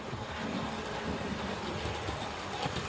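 A steady, continuous rumble and rolling roar of a model train hauling coaches, constant in level throughout, with faint rhythmic rail clatter and no talk.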